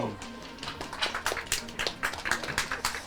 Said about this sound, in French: C'est bien Achille, on peut l'applaudir.